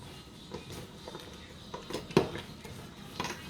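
A large cooking pot clanks and scrapes while pork-leg sinigang is being cooked, with scattered metallic knocks and one sharp clang among soft kitchen clatter.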